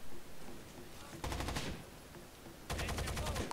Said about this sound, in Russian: Кто там стреляет, не пойму